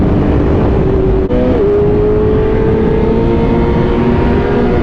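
A motorcycle engine holds a steady, loud drone with a slowly shifting pitch as a rider pulls wheelies during a MotoGP-style group ride in Austin, Texas. The engine runs continuously and close by, with no talk.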